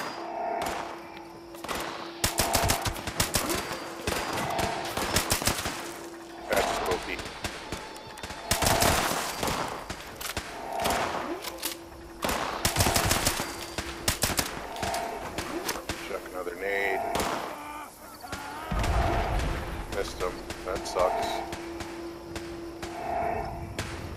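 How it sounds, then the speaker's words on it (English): Gunfire with exploding bullets in the Fallout 76 game, repeated loud bursts of shots and impacts in clusters over a game soundtrack hum. "Thank heavens for exploding bullets."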